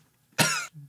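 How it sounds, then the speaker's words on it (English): A single sharp cough from a person after eating edible lime, one short harsh burst followed by a faint low vocal grunt. "Cough it up. Cough."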